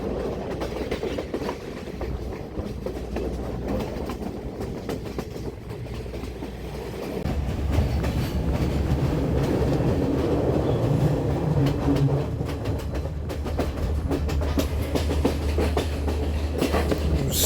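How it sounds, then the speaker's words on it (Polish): Train on unwelded rails on a mountain line in Sri Lanka, rolling at modest speed with a steady rumble and repeated clickety-clack of wheels over rail joints, growing louder and fuller partway through. "Szyny kolejowe, tak jak słychać, nie są spawane."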